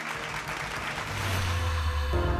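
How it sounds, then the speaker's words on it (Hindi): Audience applause at an award ceremony, a dense continuous clatter of many hands throughout, with a low sustained musical tone rising underneath in the second half. "तालियों की गूंज कम नहीं होनी चाहिए"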